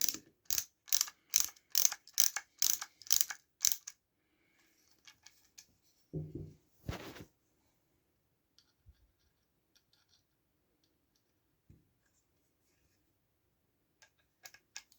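Two small supplied screws driven into a plastic part of a Batman Legendary Dark Knight model kit with a screwdriver, giving a fast run of about ten sharp ratcheting clicks, then a brief scrape and a few faint ticks in near silence.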